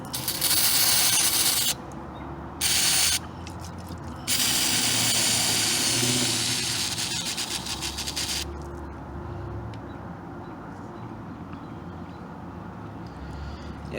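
Bursts of hissing aerosol spray from a cleaner can into a BMW VANOS solenoid, several short blasts then a longer sustained spray, close up, fading into a steady background rumble.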